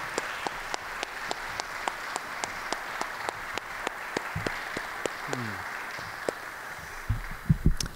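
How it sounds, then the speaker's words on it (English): A university audience applauds a concert band at a fall concert, a steady wash of clapping with a few sharp, loud individual claps near the microphone and brief speech toward the end. "Let's get another round of applause for the concert band"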